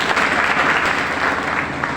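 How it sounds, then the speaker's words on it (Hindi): A kavi sammelan audience at a Dussehra get-together claps for the poet Dr. Anuj Bhadauria, producing a thick, even wash of close applause with no gaps. "एक बार उनके लिए तालियां बजा दो"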